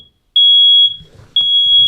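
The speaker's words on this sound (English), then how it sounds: "at least we know the smoke detector works" Home smoke detector during a building inspection, giving two loud, piercing high beeps separated by a short pause, with faint rumbling in the background.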